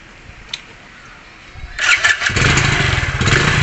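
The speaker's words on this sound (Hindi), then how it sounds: "अभी मैं इस गाड़ी को स्टार्ट करूँगा" Motorcycle engine cranks and catches after a quiet moment, then settles into a loud, steady idle close by.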